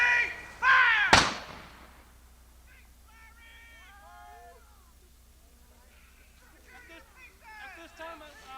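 One artillery battery gun fires a single sharp, loud blast close by, and its roar fades over a second. Voices follow faintly in the quieter stretch afterward.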